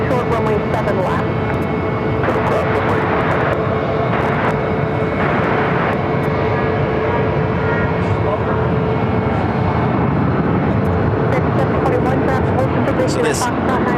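A KC-135 taxis to its parking spot at Phoenix airport, its jet engines a loud, steady roar that never lets up, with voices talking over it throughout.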